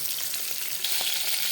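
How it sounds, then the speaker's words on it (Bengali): Rui fish pieces fry in hot oil, giving a brief, continuous hissing sizzle that stays fairly quiet and even throughout, with no voices. "আমার মাছ ভাজানো হয়ে গেছে।"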